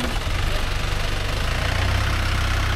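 A motorcycle engine idles steadily nearby for a few seconds, a constant low rumble with no other sounds over it.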